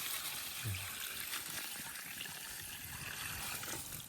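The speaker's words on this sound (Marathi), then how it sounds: "पाणी टाकूया." Water pours into a cooking pot for Maggi noodles outdoors, making a faint, steady gushing hiss with no talking over it.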